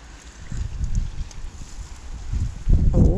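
Gusty wind buffets the microphone at a desert campsite near Dakhla, with low rumbling surges that swell and fade, stronger toward the end, and no voices.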